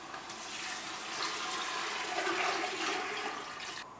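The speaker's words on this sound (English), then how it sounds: "I just put the heat back on under these vegetables, and we're going to pour the stock in." Chicken stock is poured into a pot of vegetables for soup, a steady rushing splash of liquid lasting several seconds, close and moderately loud.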